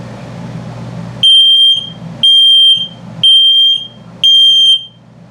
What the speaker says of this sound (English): LP is good, carbon monoxide coming up. And then low battery alarm.